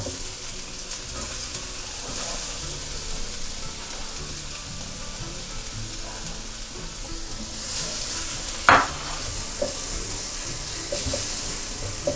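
Garlic and chopped red chili stir-frying in a little oil in a wok, a continuous soft sizzle with occasional light scrapes and one sharp clink near the end.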